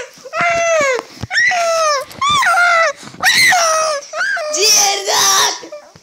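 A dog whimpers and cries in a series of high, wavering whines and yelps, loud and close, coming in repeated bursts with short gaps between them.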